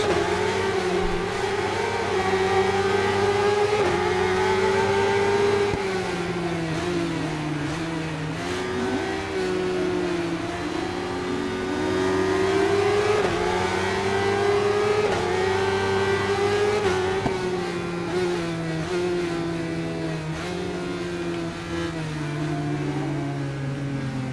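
A Suzuki motorcycle engine races in the Ride 5 video game, holding a loud, steady high-revving drone for the whole stretch, with rising and falling pitch sweeps as the bike shifts and accelerates, and no talk over it.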